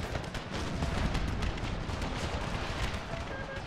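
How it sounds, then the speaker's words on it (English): Cannon and howitzer fire from a Civil War battle in Empire: Total War with the Brothers vs. Brothers mod rolls as a dense, continuous barrage of booming shots at a distance. "This cannon fire back here, this cannon fire back here, this howitzer fire right here."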